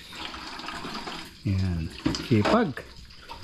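Water runs and drains at a campsite washroom sink in Benguet, a steady rushing hiss throughout, while someone speaks briefly over it.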